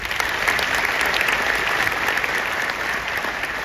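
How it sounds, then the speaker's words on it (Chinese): An audience at a company event applauds their boss, a dense, even burst of many hands clapping loudly and continuously with no voices over it. "好，所以给我们老板一个掌声。"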